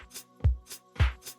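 A sustained synth pad chord from a house track, with punchy kick drums and bright hi-hats pulsing in a steady pattern over it.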